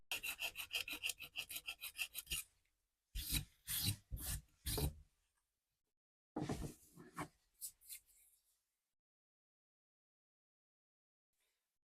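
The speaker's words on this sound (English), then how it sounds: "I'm just going to put it on a flat piece of sandpaper on the workbench and then try and round these edges off" A foraged-wood comb is rubbed back and forth on flat sandpaper on a workbench to round its edges, giving a fast rhythmic rasping run followed by several slower separate scrubbing strokes, close and alone, then silence.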